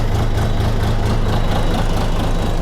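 A DTZ 5244 HP minitractor engine runs close and loud with a steady, low, pulsing throb, continuous throughout and without talk.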